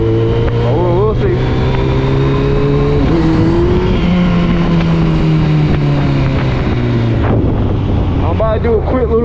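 Engine of a 2009 Kawasaki ZX 1400 motorcycle pulling hard on the road, its pitch rising and dropping through gear changes under heavy wind rush, loud and close, with a voice speaking over it.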